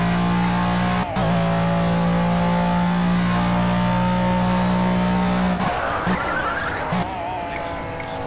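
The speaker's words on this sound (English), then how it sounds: "Locking your fronts going into Parabolica." A GT1 Long Tail race car in the Project CARS game holds a steady high engine drone, then locks its front brakes into Monza's Parabolica corner. A short, harsh tyre skid and squeal breaks through the engine note near the end.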